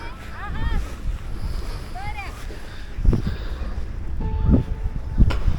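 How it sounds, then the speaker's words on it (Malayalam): Gusty wind rumbles across the microphone at a hilltop spot in Kanthalloor, a steady low roar with scattered bird chirps and brief thumps, and people talk nearby. "കാറ്റുള്ള സൗണ്ട് ക്ലിയറായിട്ട് കേൾക്കണമെന്ന് അറിയില്ല."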